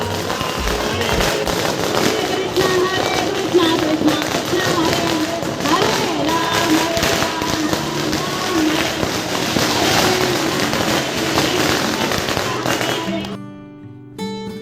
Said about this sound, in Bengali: বাজি ফাজি ফাটানো হলো, একটা দারুণ পরিবেশ একটা তৈরি হলো